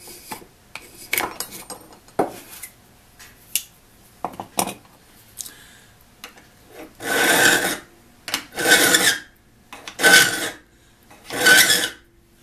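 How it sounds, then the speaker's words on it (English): A metal file rasps against the blade of a steel spade drill bit in a workshop, light scrapes at first, then four long, loud, evenly spaced filing strokes alone. "You just file until you see a shiny spot all the way across the blade"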